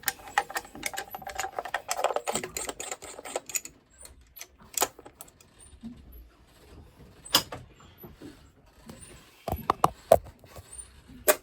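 An 11mm socket working a bolt on the flame arrestor of a Mercruiser 4.3 inboard boat engine, giving bursts of quick ratcheting clicks and metal taps close by, separated by quieter gaps, with no speech.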